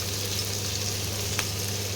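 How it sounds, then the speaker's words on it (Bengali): Onions frying in hot oil, a steady close sizzle with a faint low hum beneath and one brief crackle near the end. "এবার পেঁয়াজগুলোকে একটু লাল লাল করে ভেজে নিতে হবে।"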